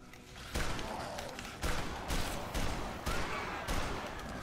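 Intermittent gunshots in the zombie survival game Dead Island, a handful of heavy thumping reports spaced about half a second to a second apart over a steady background of game ambience.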